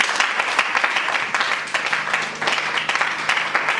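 A church congregation applauds in steady, dense clapping that holds at an even level for a few seconds, with no voice rising above it.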